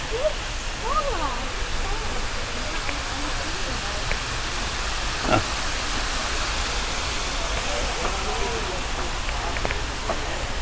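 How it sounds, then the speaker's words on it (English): Aerated water in an outdoor pool hisses and bubbles steadily, a broad, even wash of noise with faint voices and scattered clicks underneath. "Aerated water pool."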